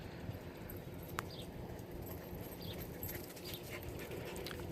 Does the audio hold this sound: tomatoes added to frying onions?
no